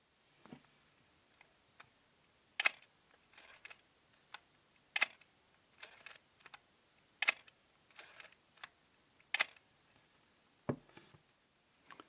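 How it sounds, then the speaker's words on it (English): A vintage film camera's shutter fires and its film advance is worked in a series of sharp, close mechanical clicks and snaps spaced irregularly across a quiet background. "So let's just hear what the shutter sounds like."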